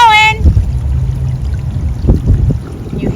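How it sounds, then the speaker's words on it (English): Water rushes and gurgles as an RV's gray tank valve is opened to drain, a steady low flow under a brief tone at the start, close and continuous. "You hear the water running through here."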